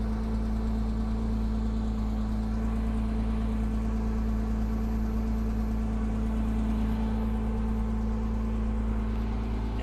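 A 2006 Porsche Boxster roadster engine idles steadily while warming up, a constant low hum with a droning tone, close and unbroken for about ten seconds with no talk.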